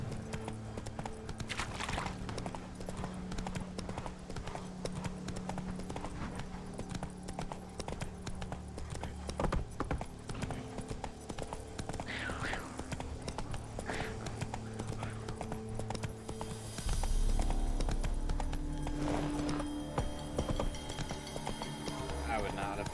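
Roach, Geralt's horse in The Witcher 3, gallops with a steady clip-clop of hooves, joined by game music and someone talking over it, plus a brief whinny near the end.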